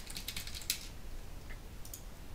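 Sparse keystrokes on a computer keyboard while typing a short chat message into a Slack-style web app, a quick cluster of faint clicks early, then scattered taps over a quiet room hum.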